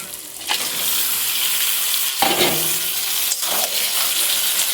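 Chicken pieces dropped into hot spiced masala on medium heat, giving a loud, continuous hiss with a couple of sharp bursts as more meat hits the pan.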